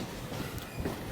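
A passenger train runs on rails while heard from on board. A steady low rumble carries faint rhythmic wheel clatter throughout the brief moment.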